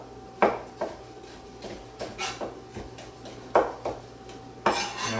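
A knife cutting a tomato on a board in the manner of an onion, a series of irregular sharp chops and taps with soft scraping between them, close and fairly quiet, with no talking.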